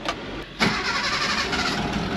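A mini truck's engine cranks briefly, pauses, then fires up and settles into a steady idle, close by and fairly loud.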